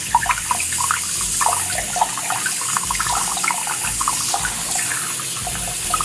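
Stream of water poured over a Samsung Galaxy S25 Ultra phone, its side, back and camera module, a close, steady splashing hiss with irregular droplet patter throughout.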